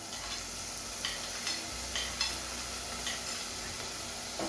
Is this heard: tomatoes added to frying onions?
yes